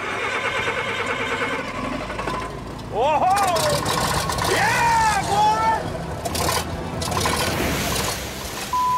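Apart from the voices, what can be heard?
old Caterpillar dozer engine powering 10-inch water pump starting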